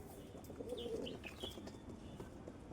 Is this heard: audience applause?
no